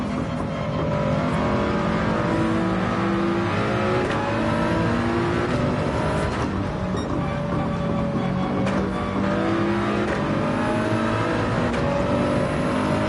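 A Toyota Supra race car at the Red Bull Ring in Gran Turismo 7, its engine revving hard and close with repeated climbs and drops through gear changes amid surrounding car noise, steady throughout with no talk.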